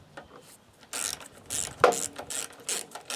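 Ratchet tightening bolts on the plastic box of a Craftsman EZ Start lawn mower, a series of short, close clicking bursts repeating in quick uneven strokes.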